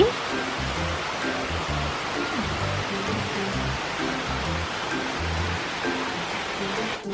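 Mae Kampong waterfall near Chiang Mai, a steady, dense rush of falling water that holds at an even loudness throughout, with faint murmuring that could be distant voices beneath it.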